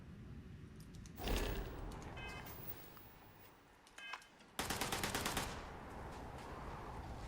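Gunfire in the space game Starfield comes as two loud bursts of rapid automatic shots, each followed by a brief ringing tail, with quiet ambient noise in between.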